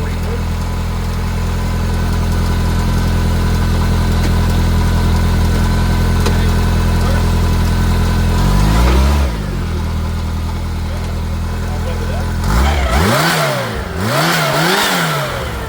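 2026 Kawasaki Teryx H2 engine running loud and close with the CVT in reverse, a steady drone that rises and falls in pitch as it revs, with sweeping engine tones near the end.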